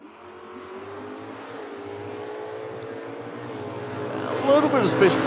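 Drag race cars, an Aspen Wagon and a Mustang, run at a drag strip, their engines droning steadily and building to a louder roar near the end, with an announcer talking over the sound.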